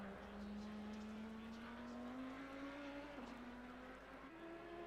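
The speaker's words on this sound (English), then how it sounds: "Hear him screaming through the gears." A race car in a sim racing game at Belgium screams through its gears, a steady loud engine whine climbing in pitch with a brief dip at a shift, continuous and close for about five seconds with no talk.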